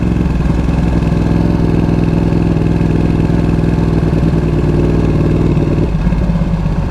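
A 2020 Ducati Panigale V2 motorcycle engine idles steadily at low speed with a barely opened throttle, a close, constant low rumble with a slight shift in tone near the end and no talking.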